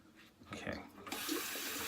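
Tap water running over a razor being rinsed mid-shave, a soft splashing that swells into a steady, fairly loud hiss of flowing water, with a brief quiet voice before it.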